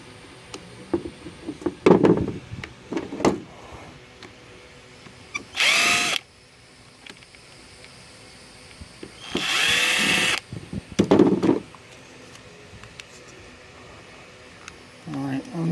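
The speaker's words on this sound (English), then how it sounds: "I'm just going to go through and crack the screws. Loosen them up a little bit." A power drill or driver cracks loose screws on scrap electronics in several short whirring bursts, separated by clanks and handling noises of metal parts, close and fairly loud.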